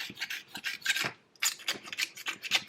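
Close scraping and rubbing bursts while gasket surfaces on a Polaris Outlaw 500 engine are cleaned of leftover sealant, in short uneven strokes with a brief pause midway.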